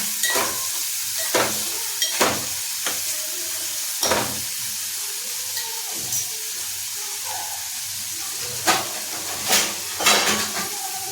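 Tomatoes stirred and frying in masala for shev bhaji: a steady sizzle runs throughout, broken by sharp scraping strokes of a spoon against the pan at irregular intervals, close up with no talk.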